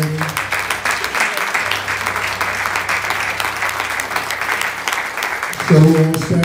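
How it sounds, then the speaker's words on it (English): Congregation applauding at a memorial service, a dense steady wash of many hands clapping together throughout, with a few voices rising near the end. "praise God by the clapping of our hands this morning"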